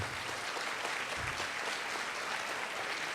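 An audience claps at a medical lecture, a continuous, fairly soft field of many hands clapping at an even level for the whole stretch, heard at some distance.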